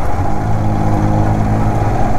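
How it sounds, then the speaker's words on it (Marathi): Vehicles idling and creeping in a traffic jam on a highway in Leh, Ladakh: a steady, close engine rumble with low droning tones, continuous and fairly loud throughout. "आणि इकडे बघा लडाखमध्ये पण ट्रॅफिक जाम व्हायला लागलं आजकाल."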